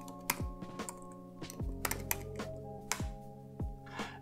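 A git merge command being typed on a computer keyboard. The keystrokes are close, irregular clicks and taps, some louder than others, and sit over a low background tone with no talking.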